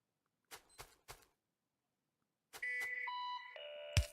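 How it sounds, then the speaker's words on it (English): An in-game alarm jingle from the Factorio video game: three short percussive taps followed by a sustained stepped electronic beeping tone that descends in pitch and ends on a sharp hit, heard alone without talk. "There's the alarm for this episode's Nerd Alert."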